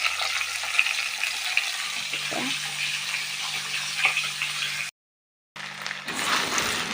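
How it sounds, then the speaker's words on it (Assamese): Fish sizzling and frying in a pan, a steady crackling hiss throughout with a short gap of silence near the end before the sizzle resumes; no talking. "মাছ ফ্ৰাই কৰি লৈছোঁ।"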